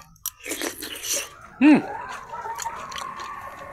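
A single crisp crunch as fried mamali fish is bitten, followed by softer chewing sounds close to the listener.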